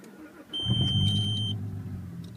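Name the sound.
manual car engine starting with key and clutch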